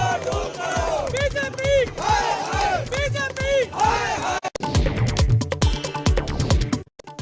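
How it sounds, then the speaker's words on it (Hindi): A large crowd of Aam Aadmi Party workers protesting at the party office in Delhi chants slogans in loud, rhythmic unison, voices overlapping in waves of shouting that continue without a break. "दिल्ली में आम आदमी पार्टी के दफ्तर पर कार्यकर्ताओं की भारी भीड़।"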